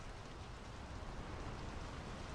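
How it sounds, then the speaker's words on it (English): Steady rain falls in the video game Draugen, a soft, even hiss of drops that holds at a constant low level throughout, with no voices. "The rain's picking up."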